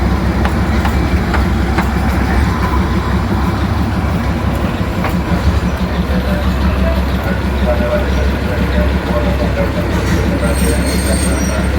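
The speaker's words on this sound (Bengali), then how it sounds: "টয় ট্রেন আসছে, একটা টয় ট্রেন আসছে, সোজা জলপাইগুড়ি এসছে, চলে গেল" Darjeeling toy train running past close by, a loud continuous rumble of wheels with high squeals over it and people talking throughout.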